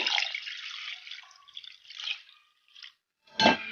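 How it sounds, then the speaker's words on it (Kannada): Water pours in a steady, close trickle into mashed lentils for drumstick sambar for a few seconds, fades out, then a short splash follows. "ಸ್ವಲ್ಪ ನೀರು ಸೇರಿಸ್ಕೊಂಬಿಡೋಣ ಈಗ"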